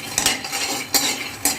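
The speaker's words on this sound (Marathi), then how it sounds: "त्यामध्ये आपण चांगले शेंगदाणे भाजून घेऊया" Peanuts are dry-roasted in a hot kadhai, with a spatula or spoon scraping and clinking against the metal in three or four distinct strokes over a soft rustling sizzle, up close and without voices.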